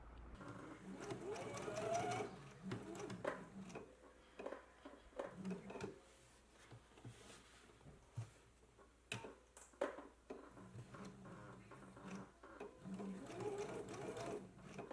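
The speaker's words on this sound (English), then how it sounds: "reinforce at those dots as well as apply an ease stitch on that upper sleeve between the notches now" A home sewing machine runs in bursts while sewing an ease stitch along an upper sleeve between the notches, a close rhythmic mechanical whir with clicks and pauses between runs, and faint talking in places.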